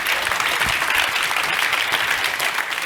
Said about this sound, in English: Please give a round of applause for both teams.